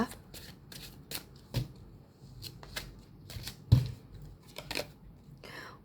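Romance Angel oracle cards are shuffled by hand in quick riffling bursts and soft slaps, close and quiet, with a few irregular pauses between them.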